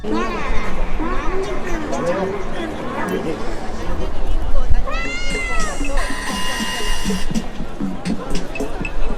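A cat meows a few times amid a busy background of people chattering and crowd noise.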